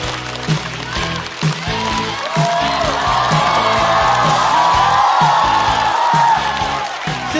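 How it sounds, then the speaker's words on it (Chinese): A studio audience claps and cheers to welcome a stand-up comedian onto the stage, the applause swelling into a loud, sustained wash with whoops, while music with a steady beat plays underneath. "掌声有请何广智"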